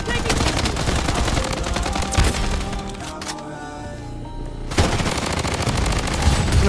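Dense automatic gunfire in the shooter game BloodStrike, rapid bursts loud and close, pausing briefly midway before resuming heavy firing.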